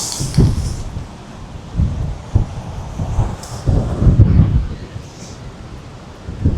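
Strong wind buffets the microphone beside a rough sea on the Keerimalai coast, with gusty rumbling bursts and crashing surf rising and falling throughout.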